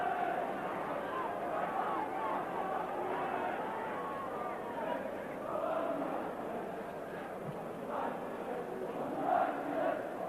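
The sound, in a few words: football stadium crowd roaring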